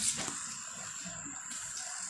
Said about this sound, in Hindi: देख लीजिए बिन पोछा लगाए ही पानी डाल दिया।